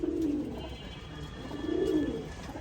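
Pigeons of various breeds in a loft give two low, throaty coos, close and clear against a quiet background, with no talk.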